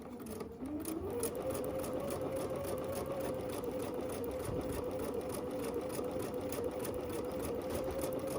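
Sewing machine stitching near the presser foot while sewing a block of the month, a steady mid-pitched mechanical whir running continuously with a rapid needle rhythm, close and alone after a brief start-up.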